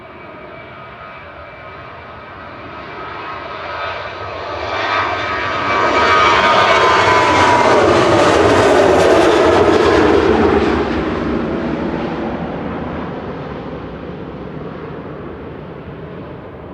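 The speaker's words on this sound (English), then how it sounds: "Ryanair flight 3088 to Gothenburg, EIEGD, is operating this evening, a 13-year-old 737-800." A 13-year-old Ryanair Boeing 737-800 at Manchester Airport passes with a loud jet roar that swells, peaks and slowly fades, alone without talk.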